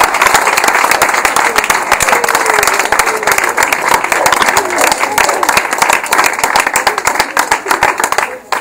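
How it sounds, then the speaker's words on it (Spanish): Audience applause at a theatrical guided tour in Los Alcázares, Spain: a dense, steady wash of many hands clapping that holds loud and even for about eight seconds before cutting off. "También pido un fuerte aplauso en ausencia."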